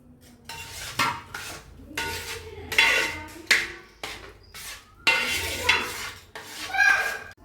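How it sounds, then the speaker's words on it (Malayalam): Jackfruit-seed halwa with poured jaggery syrup is stirred in a pan, a spoon scraping and knocking against the metal in irregular bursts, close and fairly loud, with short pauses between strokes. "ശർക്കരപ്പാനി നമ്മൾ ഒഴിച്ച് ഇനി കൈ വിടാണ്ട് ഇറക്കിക്കൊണ്ടിരിക്കണം"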